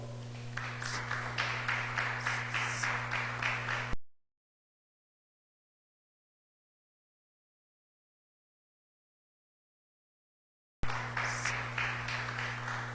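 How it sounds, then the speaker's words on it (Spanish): Church congregation applauding, rhythmic clapping of many hands over a constant low hum, interrupted by a long stretch of complete silence before the clapping resumes. "Dele un aplauso al Señor."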